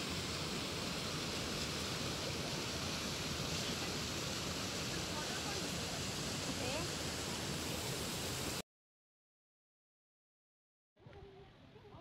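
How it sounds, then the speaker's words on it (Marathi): Steady, full rushing water from a small waterfall at the start of the Rangana fort trail, loud and unbroken for most of the time before it cuts off abruptly. "गडाच्या सुरुवातीलाच हा छोटासा पण सुंदर असा धबधबा तुमचं स्वागत करतो."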